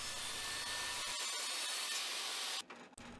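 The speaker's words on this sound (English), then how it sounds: "when I run the table saw vertically through the piece" A table saw cuts vertically through a plywood guitar blank, a loud, steady broadband whine that holds close and constant for over two seconds, then drops off abruptly as the blade clears the piece.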